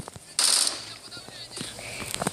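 Gunfire in a first-person shooter game: a sharp, loud burst of shots about half a second long, then a quieter stretch of scattered in-game noise and faint clicks.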